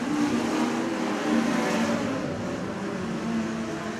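USAC midget race cars at Jefferson County Speedway, their engines a continuous dense roar at a distance that swells slightly as the pack passes, without a break.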